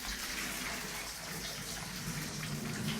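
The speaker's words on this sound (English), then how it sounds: "as soon as they're done, we're just going to pour the water out" Hot water is poured out of a pan of boiled eggs, giving a steady gushing, splashing pour that runs unbroken throughout, fairly faint, with no talking.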